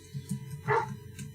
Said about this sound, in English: my dog is barking its head off